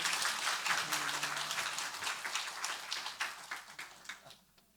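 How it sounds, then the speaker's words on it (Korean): A church congregation claps during a Sunday worship service, a fairly quiet round of applause that thins into separate claps and fades near the end. "박수해 주세요."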